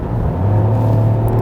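A 2020 BMW 118i hatchback engine under acceleration, heard as a loud, steady low hum and rumble from inside the car, with a firm, unbroken engine drone.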